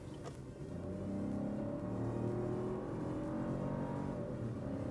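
A 2025 Chevy Trax's turbo engine hums steadily and builds as it accelerates after a turbo delay, its low droning tone rising gradually from the cabin, with no talking.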